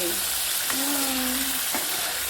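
Masala sizzling in oil in a pan, a steady close hiss throughout with a brief sliding tone cutting across the middle.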